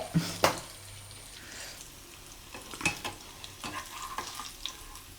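Kalanchi (barramundi) fish fries in a small pan with a soft, quiet sizzle, broken by a few sharp clinks and scrapes as the pieces are moved and turned.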